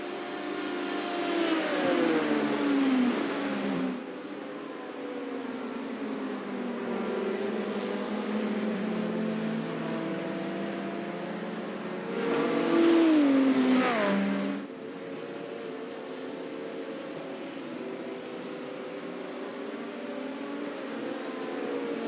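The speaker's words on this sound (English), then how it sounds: "You're going to have an LMP2 coming up on you." LMP2 prototype race car in iRacing at Sebring during a 12-hour race practice, engine note swelling as it closes in around three seconds and again near thirteen seconds, rising and shifting pitch over a steady background drone of the player's own car.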